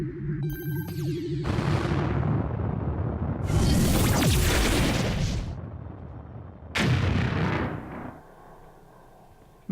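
A death ray weapon firing in a game, booming blasts with a rushing whoosh, heard as three separate loud, rumbling bursts of differing length, with quieter gaps between them.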